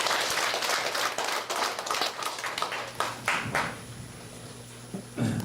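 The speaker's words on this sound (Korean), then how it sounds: "큰 박수 보내주시기 바랍니다" An audience claps at an entrance ceremony for a filial-piety school, a burst of applause from many hands that thins into scattered claps and dies away near the end.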